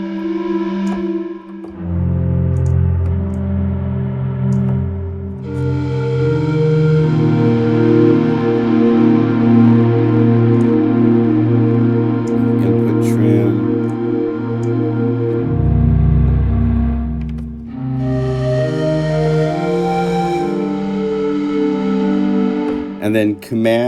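Pan flute pad from a Korg Wavestate synthesizer, played with reverb: sustained breathy chords that change several times and swell loudly, with long reverberant tails between notes.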